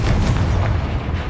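An explosion from a Confringo or Bombarda blasting spell in a Harry Potter video game, a loud, heavy boom that rumbles on for about a second up close, with no voices.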